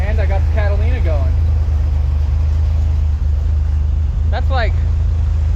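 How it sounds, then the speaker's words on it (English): A 1969 Pontiac Catalina wagon engine idles steadily with a deep, continuous rumble, close and loud throughout, while someone talks over it at the start and again near the end. "And I got the Catalina going."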